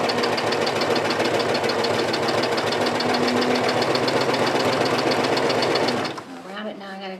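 A sewing machine stitches a jeans hem with top stitching thread, a loud, fast, steady mechanical rattle that runs for about six seconds and then stops, followed by a brief voice.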